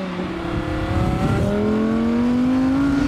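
A naturally aspirated V10 in a 2023 Audi R8 GT climbs steadily in pitch, its smooth multi-cylinder wail rising and swelling loud and close as it accelerates.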